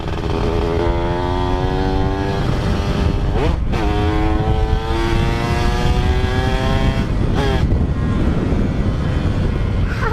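A motorcycle on a short test ride with a missing rear brake and quick-rising revs runs close and loud, its engine note climbing and falling in steady harmonic sweeps with a brief dip midway and no talk.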